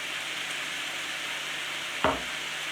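Ground cumin, about two teaspoons, is dropped into a hot pan for a chicken and spinach curry, with a steady broadband sizzle throughout and a brief louder burst of crackle as the spice hits the oil.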